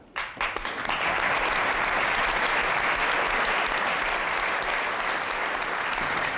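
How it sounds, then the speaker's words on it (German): Audience in a cabaret venue breaking into loud, dense applause that swells after a brief start and stays steady and full throughout. "Applaus"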